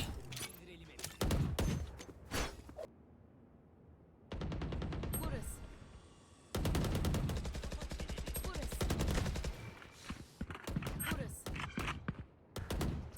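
Gunfire in the tactical shooter game Valorant, sharp bursts and rapid strings of shots in several clusters separated by quieter stretches, with a voice talking between them.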